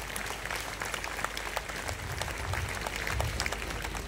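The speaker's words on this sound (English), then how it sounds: "Please give him a loud applause." A crowd applauds at a gathering for the persecuted, honouring an auxiliary bishop of the Archdiocese of Goa. The clapping is a dense, continuous wash with no single claps standing out, steady and moderately loud throughout.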